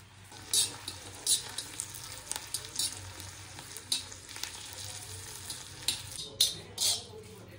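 An herbal hair oil mixture heats in a pan, sizzling and frying with a steady crackling hiss, broken by intermittent louder pops and spits, with faint low hum underneath.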